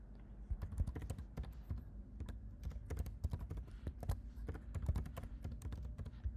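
Steady typing on a computer keyboard, quick close keystrokes clattering in an uneven flowing rhythm at low volume with no voice over it.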